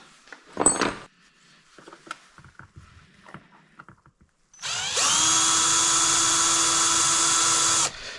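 After a few scattered clicks and handling noises, a power drill whines loudly and steadily for about three seconds, then stops.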